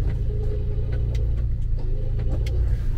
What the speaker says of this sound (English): I just got my truck pulling from the back